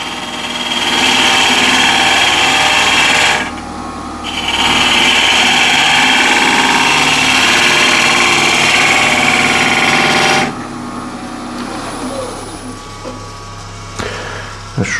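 A tool is ground on an 80 grit white grinding wheel, a loud close whining grind that runs steadily, breaks briefly, resumes for several seconds, then the wheel spins on more quietly.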